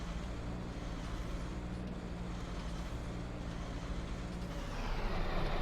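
A tractor with a Cat C13 engine runs steadily in Farming Simulator 19, a continuous low diesel rumble with a broadband roar that swells slightly toward the end, with no talking.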